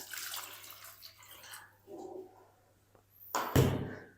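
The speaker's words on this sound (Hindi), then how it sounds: "इसके अंदर ना 1 कप पानी डाल देंगे।" Water from a cup is poured into a cooking pan while making potato semolina snacks, a short splashing gush heard near the end after quieter kitchen handling noises.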